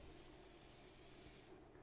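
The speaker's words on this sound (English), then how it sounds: "We use the rice bran spray." A steady hissing spray of rice bran oil onto a pan runs for over a second, close and continuous, then cuts off abruptly.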